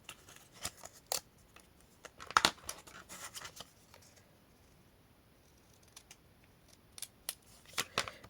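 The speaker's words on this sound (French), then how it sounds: "On va couper comme ça sur le tapis." Paper cut with scissors on a cutting mat, a run of sharp, quiet snips in irregular bursts with short pauses, close and faint, no talk.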